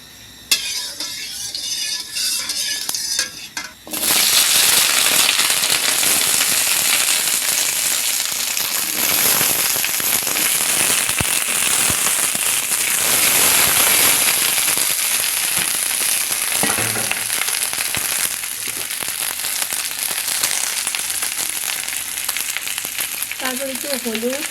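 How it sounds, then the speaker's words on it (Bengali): Okra fries in hot oil in a wok, beginning with a quieter lead-in and then breaking into a loud, steady crackling sizzle that carries on unbroken, with occasional stirring clinks near the end. "নর্মালি আমরা যেরকমভাবে ঢেঁড়স ভাজি সেভাবেই ঢেঁড়সটা একটু ভেজে নিব।"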